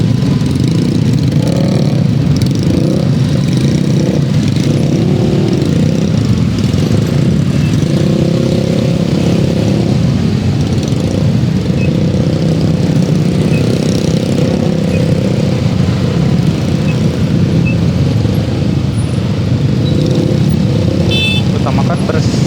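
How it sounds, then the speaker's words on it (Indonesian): A clutch motorcycle engine runs steadily throughout, a low rumbling drone with slight shifts in pitch, accompanied by wind and road noise. "Kita yang motor kopling ya"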